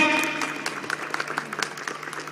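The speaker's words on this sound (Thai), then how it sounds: "ขอเสียงปรบมือดังๆ ให้การแสดงทุกชุดในค่ำคืนนี้ครับ" An evening audience at a university performance event applauds the acts, dense steady clapping from a crowd that fades gradually, heard without talk over it.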